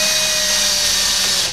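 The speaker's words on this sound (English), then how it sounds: "I like to keep the power drill on a low torque setting so that I don't strip the screws" Power drill on a low torque setting driving screws into the housing of an MGI ZIP Navigator speed controller, a loud, steady high whine lasting the whole short burst before tapering off at the end.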